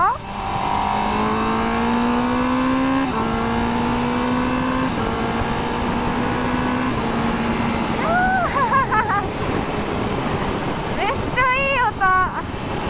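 A Honda CBR1000RR-R sport motorcycle engine revs up through several rising gear pulls, loud and close, followed by bursts of high revving near the end.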